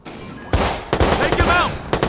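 Gunfire in the video game Watch Dogs as a man is shot, several loud sharp bursts in quick succession over game background noise.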